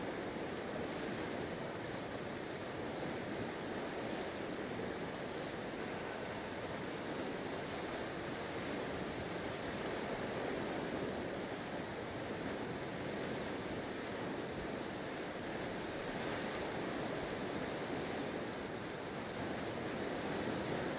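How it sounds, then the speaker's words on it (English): A sailing ship in the game Naval Action cuts across the water, a continuous broad wash of waves and wind that stays steady and even throughout, with no voices. "you can see the movement of the ship across the water"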